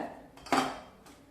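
A metal cooking pot is picked up and set down for tempering, giving one sharp clank followed by a fainter knock, close and alone.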